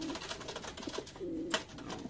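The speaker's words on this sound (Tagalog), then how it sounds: "Mga kalapati natin." Soft cooing of racing pigeons, a few low throaty coos with some light rustling and a brief chirp, faint and close-by in a quiet setting.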